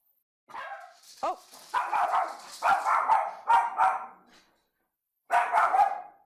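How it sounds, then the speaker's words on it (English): A dog barks several times in short, uneven clusters, fairly close and clear in an otherwise quiet indoor room, with a person briefly exclaiming between the barks. "my dog hears something"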